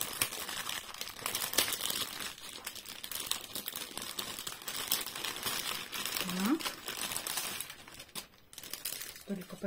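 Plastic packaging crinkles and rustles in irregular bursts while new yarn and knitting needles are unpacked, close to the mic, with someone speaking briefly over the handling noise.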